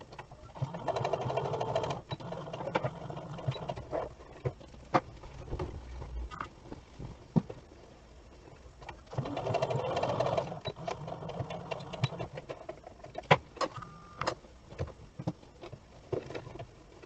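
A domestic sewing machine stitching fabric for a zip-up front garment, a steady close whirring hum in two long bursts separated by a quieter pause with a few scattered clicks and taps.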